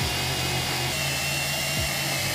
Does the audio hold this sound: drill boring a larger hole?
yes